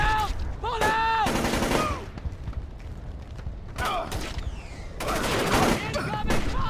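Gunfire and combat sounds in the stealth video game Splinter Cell: Chaos Theory, with loud bursts of rapid shots, mechanical clanks and ringing metallic tones, shouted soldier voices mixed in throughout.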